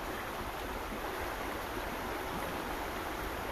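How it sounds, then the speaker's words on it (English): A river rushing over rocks outdoors, a steady dense whooshing roar of flowing water, close and continuous with no voices. "this river sounds beautiful. It's got all sorts of levels of sound."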